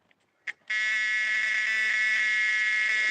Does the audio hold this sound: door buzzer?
yes